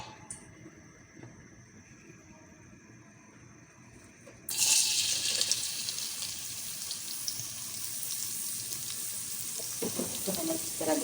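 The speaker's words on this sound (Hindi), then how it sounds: "इसमें एक छोटी अनियन डालूंगी बारीक काट के। उसको फ्राई करेंगे" Finely chopped onion goes into hot oil in a home kitchen; after a quiet start with faint background hum, a sudden loud, steady sizzle of frying takes over and continues.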